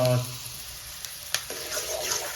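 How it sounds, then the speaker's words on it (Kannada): Onions roasting in a pan while a chicken dish is cooked at home give a soft, steady sizzle, with faint clinks and a voice briefly heard. "ಈರುಳ್ಳಿ ಹಾಕೊಂಡು ಈರುಳ್ಳಿ ಸ್ವಲ್ಪ ಕಲರ್ ಆಗೋವರೆಗೂ ರೋಸ್ಟ್ ಮಾಡ್ಕೊಬೇಕು"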